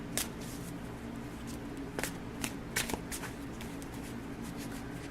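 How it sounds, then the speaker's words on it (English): A deck of tarot cards is quickly shuffled by hand. The sound is a faint, soft riffling with a few light taps and slaps, heard up close against low background noise. "I'm going to do a quick shuffle."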